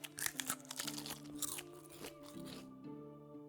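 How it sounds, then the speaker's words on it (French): Eating and drinking sounds in the medieval survival game Medieval Dynasty, with a run of quick crunchy bites and chewing up front that ease into swallowing, all set against a steady tonal game music bed. "je vais juste manger, boire rapidement"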